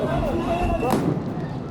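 A tear gas grenade bursts nearby with a sharp, loud bang about midway through, amid continuous outdoor crowd noise and people talking.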